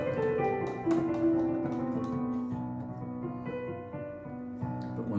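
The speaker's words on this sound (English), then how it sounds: "this is the sound of Locrian mode." A quiet melodic line in Locrian mode moves through a few sustained, ringing notes with soft attacks, played alone on an instrument.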